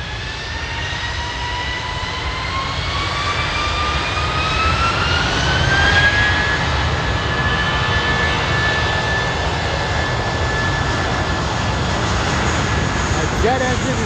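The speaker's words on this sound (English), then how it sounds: "Our jet engine is over 160 decibels." JetBlue Airbus A320 jet engines at Fort Lauderdale International Airport roaring steadily through takeoff, a loud continuous whine with rising tones that climb and then hold, sustained for the whole stretch.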